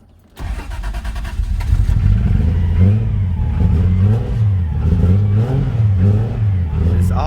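A turbocharged Lexus SC300 making about 500 wheel horsepower cranks and fires on a cold start, then idles high and loud with rhythmic rising-and-falling revs, close by, with a voice briefly audible.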